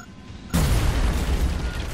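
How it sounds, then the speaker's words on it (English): Grenade blast in the strategy game XCOM Long War: after a quiet lead-in, a sudden loud explosion hits and a heavy rumbling roar sustains afterward. "Throwing grenade!"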